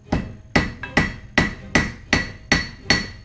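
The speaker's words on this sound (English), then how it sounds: "Today, I'm hammering the flat spots where I'm going to mount stones." A metal crown is struck by a hammer on a heavy anvil to flatten spots for stone settings, with eight loud, ringing blows falling in a steady, even rhythm and no voices.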